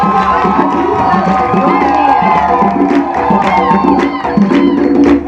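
A theatre audience cheers and applauds the cast of a comedy show, a dense, steady wash of crowd noise with whoops and shouts that stays loud and close throughout.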